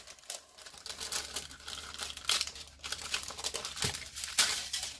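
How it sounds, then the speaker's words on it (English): A paper punch cutting through waxed paper, giving soft crinkling and crunchy tearing sounds in irregular bursts, close up and fairly quiet, with no talking. "you want to take your waxed paper and you want to punch as well"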